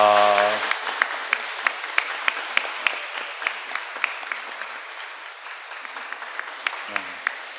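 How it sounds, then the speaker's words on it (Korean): Church congregation applauding as a blessing during a Sunday worship service, a steady sustained round of many hands clapping, fairly close and filling the room, with a brief spoken voice at the start and near the end. "여러분들 축복의 박수 해주시기 바랍니다"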